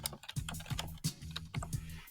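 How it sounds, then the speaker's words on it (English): Quick keystrokes on a computer keyboard, close and clear, clustering into short uneven bursts of clicks with a few heavier key strikes, with no talking. "I'll just type an example sentence"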